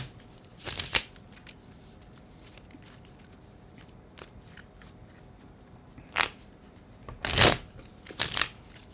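Tarot cards are shuffled by hand in a quiet room, with several separate riffling bursts at uneven intervals, close and fairly soft, no talking.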